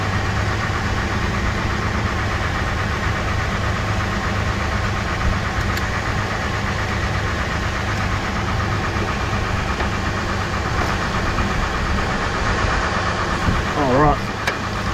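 A Mazda Bravo V6 4-litre engine idles warm during an oil change, a steady low rumble with a faint rhythmic knock running throughout at close range.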